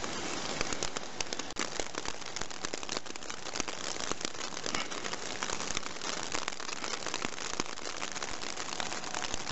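Steady rain falls outdoors as a dense, even patter and crackle of drops that continues unbroken at moderate volume with no voices.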